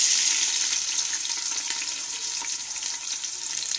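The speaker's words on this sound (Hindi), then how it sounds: "मैंने आधी प्याली घी को गर्म कर लिया है। अब इसके अंदर आपने प्याज शामिल कर देने हैं" Onions sizzle in hot ghee in a pan while cooking aloo gobi, giving a steady close crackling hiss with scattered pops throughout and no talking.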